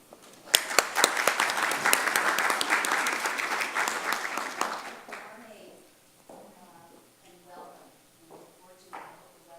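An audience at a parents weekend information session claps to welcome the dean; the applause is fairly close and steady for about five seconds, then fades as a single voice starts speaking.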